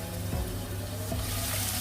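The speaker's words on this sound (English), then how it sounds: "start with the onions because the onions need to fry properly" Onions fry in a pan with a steady, moderately quiet sizzle and a couple of soft stirring scrapes, with no voices.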